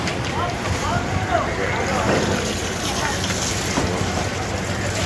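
Open sea heard from aboard a fishing boat at dawn, a constant broad wash of wind and water close to the microphone, with a voice talking over it throughout.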